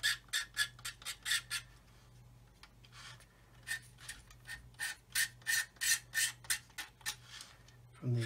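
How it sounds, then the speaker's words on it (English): A curved hobby blade scrapes paint off a plastic Meng 1/35 9K37M1 Buk scale model in quick rasping strokes, a steady run of short close scrapes in bursts, with a faint low hum beneath. "and just scrape away the paint"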